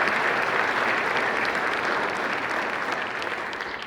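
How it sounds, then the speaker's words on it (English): A crowd at an Army football awards banquet applauds player Hamilton Baker with a thick, continuous wash of clapping that holds steady and slowly fades toward the end. "So we'll give a clap for Hamilton Baker."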